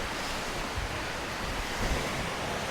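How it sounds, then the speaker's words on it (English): Sea waves breaking on the Costa Blanca shore, a steady loud roar of surf with wind buffeting the microphone throughout, no voices. "And that water won't be always as noisy as that"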